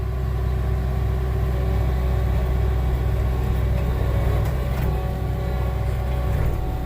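A forestry mulcher drones steadily at close range, a constant low engine rumble with grinding texture throughout.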